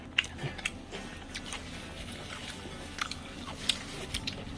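Close, quiet chewing and biting of seasoned bangpung (hog fennel) greens dressed with doenjang and ssamjang, soft, moist mouthfuls with a few sharper bites and no talking.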